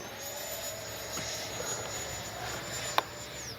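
A Freewing 90mm Zeus RC jet on its maiden flight gives a steady, fairly distant high-pitched whine from its ducted fan. One brief sharp click is heard near the end.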